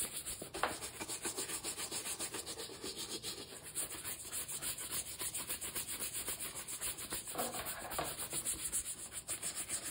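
A vintage Coach leather bag gets scrubbed with saddle soap, giving close, continuous rubbing and brushing strokes in a steady back-and-forth rhythm under a faint high whine, with no voices.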